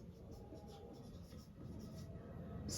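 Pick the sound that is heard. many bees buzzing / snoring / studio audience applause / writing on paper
writing on paper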